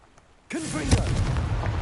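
A Confringo blast spell cast in Hogwarts Legacy bursts in abruptly after a quiet moment, a loud fiery explosion that sustains and crackles for over a second, with a voice briefly heard over it.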